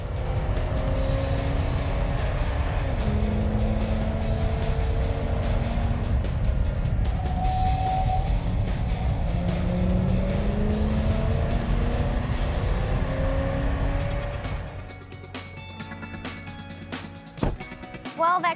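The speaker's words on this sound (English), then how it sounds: "where we're able to test the truck at high speeds" A Toyota pickup truck runs at high speed around a banked test oval, its engine and tire roar loud and steady for most of the stretch before easing off and fading near the end.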